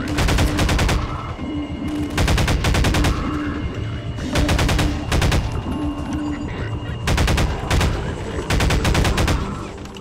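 Loud bursts of automatic gunfire in Half-Life 2, four clustered volleys of rapid shots separated by short pauses, close and dominant over background game sound.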